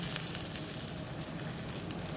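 Cumin and other tempering spices sizzle in hot oil for a hotel-style chutney served with medu vada, a steady close crackling hiss that holds evenly throughout, with no voices.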